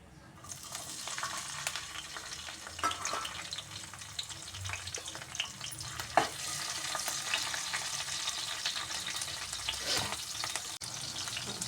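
Green chillies frying in a pan, a steady close sizzle that runs the whole time with occasional stirring scrapes, and no talking.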